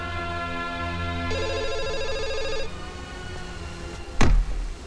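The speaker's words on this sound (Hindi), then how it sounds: "फोन बज रहा है।" A telephone rings with a bright, trilling electronic ring lasting about a second and a half over a steady background tone, followed by a sharp descending swoosh near the end.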